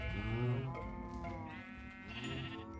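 Sheep bleating in the Minecraft video game, a few wavering synthetic bleats in quick succession, loud and close with nothing else around.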